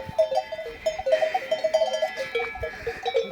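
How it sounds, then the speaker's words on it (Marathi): Cows grazing in an open pasture give off soft, rhythmic clinking bell tones, fairly faint and somewhat distant, with quiet outdoor ambience and no talk. "या सगळ्या आमच्या गायी आहेत"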